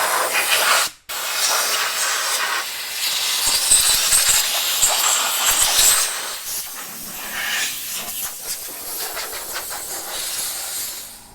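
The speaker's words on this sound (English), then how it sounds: "you can use an air compressor and blow out all the little pockets of air in here" A strong, steady hiss of an air compressor blowing air into a car engine bay rushes on for several seconds after a brief pause, loud and close, with slight fluctuations.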